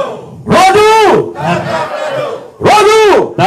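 Crowd at a political rally in Kimanis shouts a call-and-response rally cry, two loud unison bursts separated by a quieter stretch of murmuring voices.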